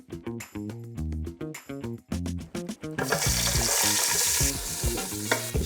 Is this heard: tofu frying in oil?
yes